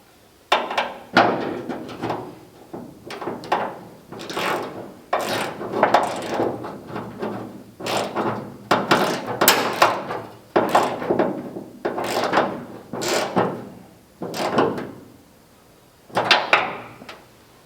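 A deep well socket wrench ratchets repeatedly while tightening the hood ornament on a 1976 Cadillac Eldorado, with steady bursts of clicking mechanical turns close to the microphone and no talking.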